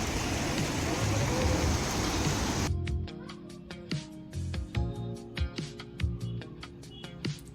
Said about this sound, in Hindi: और आप सुन सकते हैं इनकी लहरें कितनी प्यारी हैं।